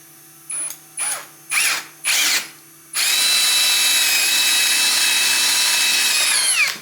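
A power drill revs in four short bursts, then runs steadily for several seconds as it bores into a cedar guitar body, whining loudly up close.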